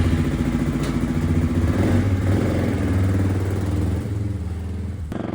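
Enduro motorcycle fitted with enduro tires and a front mousse insert, ridden with no dB killer in the exhaust. Its engine drones steadily and loudly up close, with some rattle of the machine, and eases off slightly near the end.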